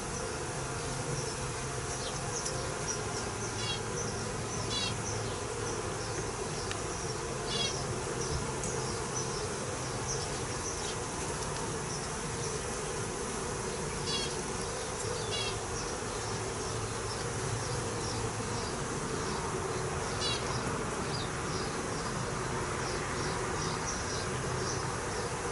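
Calm honey bees covering a hive frame during an inspection give off a constant, full buzzing drone at close range, unchanging over the long stretch, with recurring faint chirp-like ticks over the hum and no speech.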